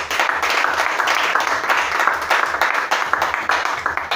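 A church congregation bursts into loud, sustained applause during a worship service, a dense wash of hand claps filling the room for several seconds with no speech over it.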